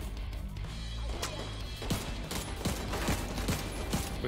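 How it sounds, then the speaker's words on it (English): Gunfire and impacts fill a video game shooter firefight, with a burst weapon chattering and sharp blasts that fit a grenade explosion landing amid repeated shots, busy and dense throughout. "Incoming grenade!"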